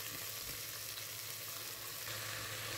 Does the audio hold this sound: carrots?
yes